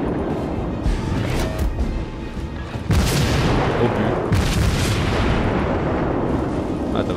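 Naval guns boom in World of Warships, loud heavy salvos with a big blast near three seconds and another around four and a half, over continuous battle rumble and faint game noise.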